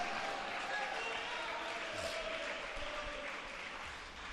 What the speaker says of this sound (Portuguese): Aplaude a Jesus, aplaude, aplaude